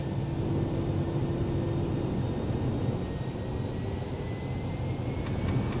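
Airbus A319 jet engines in X-Plane 11 hold a steady, loud, continuous roar at full takeoff power, with a broad rumble and faint high whine that stay unbroken throughout, with no voices.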